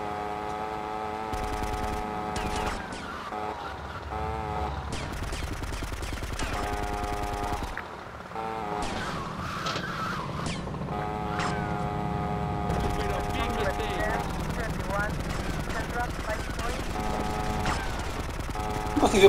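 Gunfire rattles in bursts during a motorbike chase in GTA Vice City Definitive Edition on PS5, mixed with steady game music and effects at a constant, moderate level.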